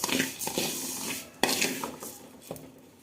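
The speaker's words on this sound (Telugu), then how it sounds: "ఈ విధంగా సిమ్లో పెట్టేసి బాగా వేపేసుకోండి" Moong dal and rice roasting in a pan on low heat, with a utensil scraping and stirring in a few distinct strokes and clinks, the dry grains rustling close-up.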